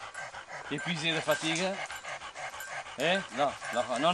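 An exhausted dog pants in quick, rhythmic breaths close by, with a few whimpering, whining tones rising between them while someone speaks softly over it.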